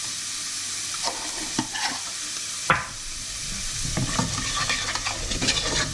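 Onions, black pepper, sea salt and chili flakes sweating in a pan for fisherman's soup, a steady close sizzle broken by a few scraping stirs and clinks of the utensil.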